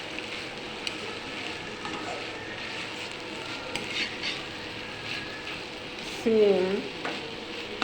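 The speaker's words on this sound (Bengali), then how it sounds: "এখানে বিভিন্ন প্রকারের সবজি দিয়ে একটা ভাজি তৈরি করা হচ্ছে।" Mixed vegetable bhaji, including potato and tomato, frying in a pan with steady sizzling and stirring scrapes, a louder scraping burst near the end and a brief spoken word.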